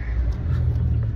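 A car turning on a road, its engine giving a steady low rumble close by throughout, with no speech over it.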